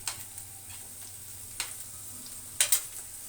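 Tomatoes stirred into frying onions in a pan on a home stove, with a soft steady sizzle under a few faint scraping and stirring clicks, plus one sharper clatter near the end.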